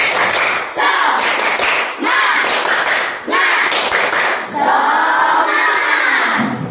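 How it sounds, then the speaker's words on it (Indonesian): Children in a classroom clap a loud, rhythmic spirit-clap pattern in unison, bursts of claps broken by short pauses, with shouted voices mixed into the rhythm at close range. "Tepuk semangat!"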